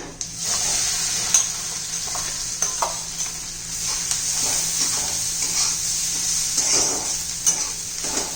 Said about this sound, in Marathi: आपण आता भाजून घेऊया मस्त चटणी गरम करून घेऊया